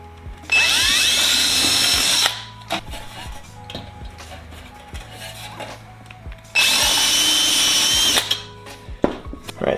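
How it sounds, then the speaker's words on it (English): A power drill with a long number 30 bit whirs twice in loud bursts of about two seconds each while building an aircraft bellcrank rib assembly, separated by quieter clicks and handling noises. "I also happen to have a longer number 30 drill bit here, which I'm going to use"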